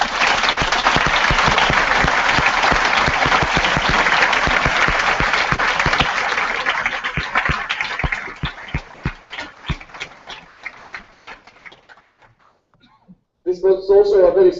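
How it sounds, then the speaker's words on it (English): Audience applause at a general assembly session in Bucharest, a loud sustained ovation that thins into scattered claps and fades to near silence before a voice begins speaking. "Please give yourself a big round of applause."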